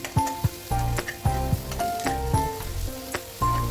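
Ginger garlic paste sizzles in hot oil in a pan while bottle gourd fry is being cooked, with a crackling hiss punctuated by knocks and scrapes of a stirring spoon.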